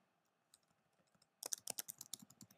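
Someone types on a computer keyboard, a few soft taps first, then a quick, close burst of crisp keystrokes.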